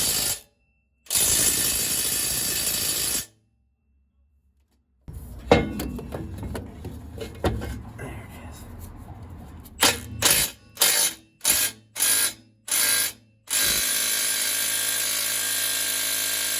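Stubby ratchet working on exhaust bolts during a Borla muffler install, with close, quiet bursts of rapid clicking and metallic ratcheting separated by pauses.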